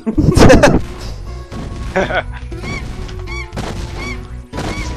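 A bird creature in the Spyro 2 video game lets out honking, goose-like calls, several squawks in quick succession after a loud crash, mixed with a voice talking over them.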